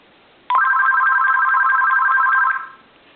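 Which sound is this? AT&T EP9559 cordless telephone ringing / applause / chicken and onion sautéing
AT&T EP9559 cordless telephone ringing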